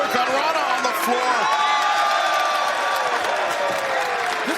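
A large wrestling crowd in Boston cheers and roars steadily, a dense, loud wash of voices with scattered whoops and applause, filling the space continuously.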